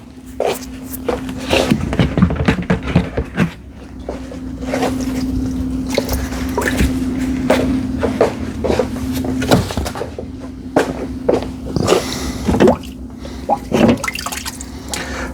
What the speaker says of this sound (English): we're going to pull out the metal pieces, the rusty metal that was put into the bin of Rust 911 24 hours ago